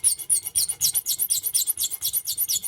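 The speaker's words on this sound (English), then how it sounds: "switch over to a flat file to kind of give me a little bit more" Flat hand file rasping across a lock pick, a close, loud, steady back-and-forth scraping of about a dozen quick harsh strokes with no talk.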